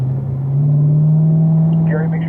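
Car engine under throttle on a race track, a steady, loud low engine drone building slightly in strength, with a voice speaking over it near the end.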